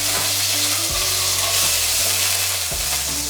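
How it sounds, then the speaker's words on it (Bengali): Nigella seeds and chopped garlic sizzle steadily in hot oil, a loud, close, continuous frying hiss with a few stirring scrapes along the way and no talking. "এখন ওই একই তেলের মধ্যে দিচ্ছি 1 টিস্পুন কালো জিরে ফোড়ন, সঙ্গে রসুন 3 থেকে 4টে ক্লভ আমি কুচি করে নিচ্ছি।"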